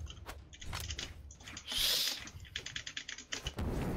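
Computer keyboard typing during a game session: quick clusters of sharp clacks in irregular bursts, close up, with a brief louder rustle partway through.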